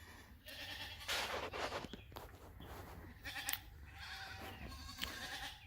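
Lambs bleat several times outdoors at a livestock farm near a creek, the calls close and loud over a rough background of rustling and movement.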